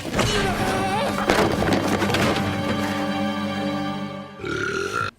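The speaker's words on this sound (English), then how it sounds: "when the bin burps, it's just not funny in my opinion" A wheelie bin burps in the Doctor Who episode Rose, a loud, drawn-out belching groan that fills most of the clip before a short final burst.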